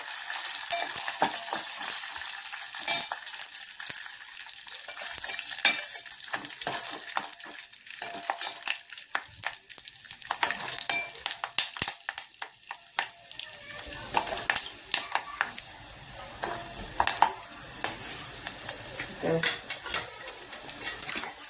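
Peanuts frying and being stirred in a pan while making Maharashtrian green chili thecha, a steady close sizzle broken by repeated scraping and clinking of the spoon against the metal, with no voice.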